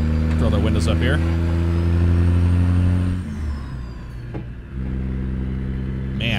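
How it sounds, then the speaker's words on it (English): A Peterbilt 362 with a modded Cat C18 engine in a truck-driving video game rumbles with a deep, steady idle, then dips briefly before the low drone returns, while someone talks over it. "Man, what a great sounding truck with Z-Mod's Cat C18."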